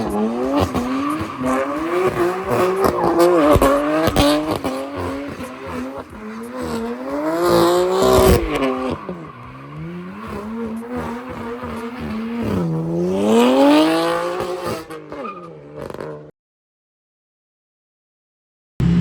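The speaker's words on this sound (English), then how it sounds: "Let's do some donuts." A car wrapped in Christmas lights does donuts, its engine revving in rising and falling sweeps while tires squeal and skid loudly in repeated wavering bursts, then the sound cuts out abruptly.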